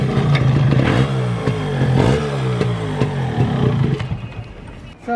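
Motorcycle exhaust from a Yamaha RX 135 two-stroke and a Suzuki Shaolin with an expansion chamber, revving loud and close with a crackling, popping note that rises and falls, then drops away toward the end.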